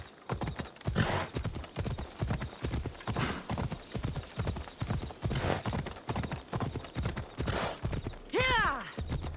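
A horse galloping in the video game Assassin's Creed Odyssey, a steady rapid rhythm of hoofbeats close and loud, ending with a sharp whinny near the end.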